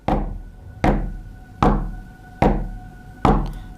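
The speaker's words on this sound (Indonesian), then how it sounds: "ketukan itu selalu terdengar sebanyak 5 kali" Five evenly spaced, solid knocks on a door, each a sharp thud with a brief ringing decay, close and loud with no voices.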